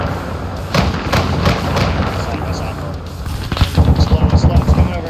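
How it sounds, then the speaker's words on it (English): Gunfire in Arma 3 during a Navy SEAL combat mission, distant shots cracking through trees, thumping under radio-style talk from several voices, ending in a rapid rhythmic burst of automatic fire. "Shooting through the trees."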